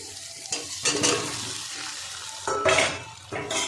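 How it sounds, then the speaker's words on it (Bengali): Fried potatoes tipped into a pan of cooked-down spice masala and stirred: bursts of scraping and clattering against the pan over a steady sizzle, close, in uneven strokes, no talking. "মশলাটা কষানো হয়ে গেছে, আমি এবার ভেজে রাখা আলুটা দিয়ে দেবো।"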